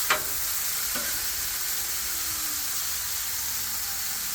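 Hibachi food sizzling on a Blackstone griddle, a steady bright hiss of frying that holds evenly throughout, with a faint clink of a utensil near the start.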